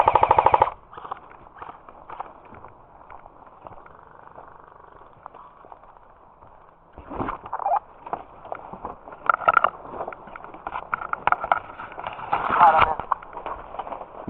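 Airsoft guns at an outdoor skirmish crackle in rapid bursts, a loud close volley at the start and then scattered rattling strings that come and go over several seconds, with people talking among the shots.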